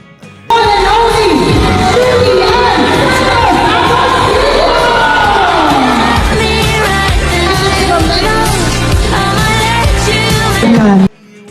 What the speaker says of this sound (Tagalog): Hiyawan ang mga tao nang makita nang umakyat si Judean Santos sa stage